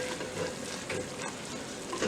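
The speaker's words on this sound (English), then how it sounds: "So now I'm making kind of a roux with the butter, and I'm using gluten-free flour" A roux of butter and gluten-free flour sizzling steadily in a pan, with a continuous close frying crackle and faint stirring scrapes, alone without talk.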